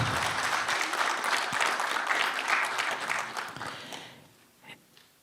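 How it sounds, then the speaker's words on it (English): Applause at a memorial gathering: a full room claps steadily for about four seconds, then the sound thins and fades into scattered last claps. "Yes, go ahead, applaud."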